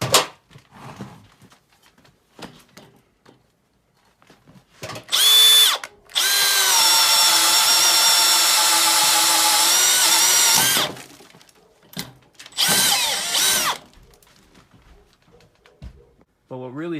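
A brushless drill runs on speed 1, giving a loud, steady high whine in two bursts, a short one followed by a longer run of about five seconds, then a brief third spin, with quiet gaps and faint background noises between.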